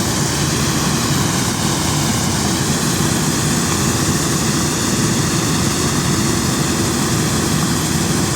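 An old Niva SK-5 combine harvester threshes corn in freezing December cold, its engine and threshing drum giving a steady, loud, unbroken mechanical roar and whine close by, with no speech.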